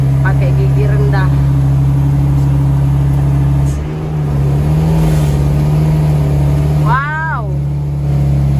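A car engine labours in low gear up a very steep mountain road between Kerinci Sungai Penuh and Bangko, a loud, steady low drone inside the cabin with a brief dip midway and voices heard over it.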